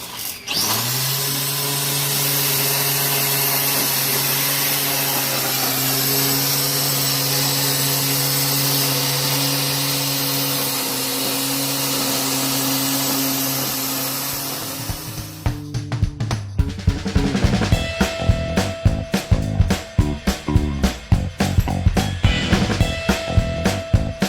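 A Black & Decker electric lawn edger set in lawnmower mode runs with a steady whirring motor hum, then shifts into rapid choppy, rattling cutting as its blade chops through grass, loud and close with no talking.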